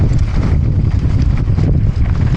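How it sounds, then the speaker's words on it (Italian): Wind gusting against the microphone on a cold day at an outdoor bike jump camp, a steady low rumbling buffet with fluctuating gusts, loud and close throughout. "Occhio che c'è vento"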